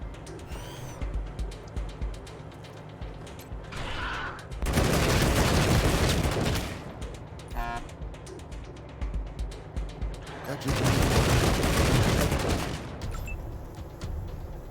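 Ambush gunfire in the post-apocalyptic tactical game Wasteland 3, two loud sustained bursts of rapid shooting a few seconds apart, with quieter clicks, chirps and game effects between them.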